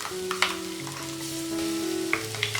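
Ground spice paste sautéed with browned onions in a pan for Kerala pork vindaloo, a close, steady sizzle with intermittent scraping stirs over a faint low hum, and no speech.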